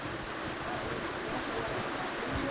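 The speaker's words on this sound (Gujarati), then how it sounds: "તેજ પવન ફૂંકાઈ રહ્યો છે" Strong wind roars steadily during an unseasonal rainstorm in Patan district, a dense, continuous rushing noise with no pauses and no voices.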